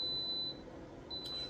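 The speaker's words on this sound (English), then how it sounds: "if you hear the beep, that means it's set for the temperature" An air fryer gives a thin electronic beep as its temperature is set, a steady high tone held for about half a second, then sounding again after a pause, faint over room noise.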